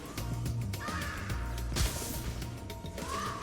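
A large, ugly bird caws in the video game Spyro: Year of the Dragon. The harsh calls come in short bursts over busy mechanical clicking and steady game music, with no voices.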